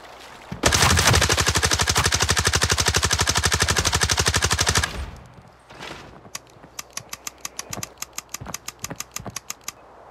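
Automatic weapon fire in the shooter game Arena Breakout: a loud, rapid continuous burst lasting about four seconds, then a pause and a string of quieter, evenly spaced single clicks and shots.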